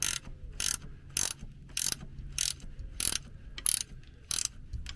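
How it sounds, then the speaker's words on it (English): A ratchet loosens the gearbox front mount bolt on a VW T25 Vanagon with a 1.9 water-cooled boxer engine. Nine regular, sharp clicking bursts about every 0.6 seconds sound close up, with a low background hum and no talk. "So I'm just going to loosen it to the point where it's at the end of the thread."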